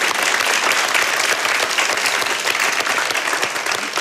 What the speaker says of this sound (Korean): 이상준과 코믹 연합팀 여러분 다시 한번 더 박수 부탁드립니다